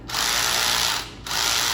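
A power drill mixing glaze whirs in two steady bursts, high and strained because the resistance is too low, with a short break between them.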